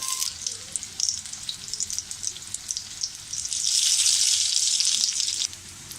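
Poha and potato cutlets shallow-fry in a pan, crisping on one side with a continuous close sizzle and crackle that swells louder midway before easing off.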